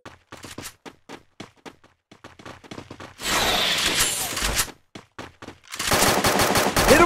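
Gunfire in the Free Fire battle royale game: a run of short, sharp rhythmic shots, then two long, dense automatic bursts, loud and close, with no talk.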